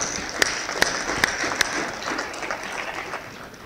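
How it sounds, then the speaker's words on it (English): Broad clapping from a conference audience, a continuous wash of hands with a few sharper claps standing out near the start. "They also deserve a big applause from us."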